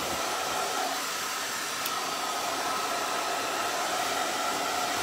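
A hair dryer blows steadily on wet paint on a wheelbarrow Easter yard decoration, a constant close airy whoosh that runs unbroken from start to finish with no talking.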